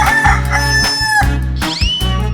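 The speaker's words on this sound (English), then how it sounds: "Chicken." A rooster's crow from a 3D animal slide game, loud and close, repeated in short bursts over steady electronic game music.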